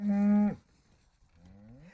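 A single cow moos loudly and close for about half a second on a farm, followed by a fainter, rising second call from cattle.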